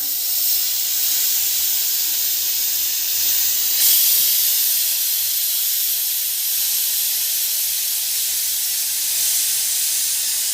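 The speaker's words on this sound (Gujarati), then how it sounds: "સીટી થઈ જાય છે કુકરમાં" A pressure cooker on low heat, cooking a cabbage and potato curry, releases steam in a continuous loud, close hiss that holds steady throughout with only a slight surge partway through.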